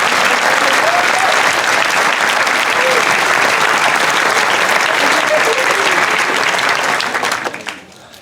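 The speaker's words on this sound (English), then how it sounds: "So please join me in giving them a round of applause." Loud, sustained applause from a large audience at a school commencement ceremony, dense clapping with a few faint cheers mixed in, holding steady before tapering off near the end.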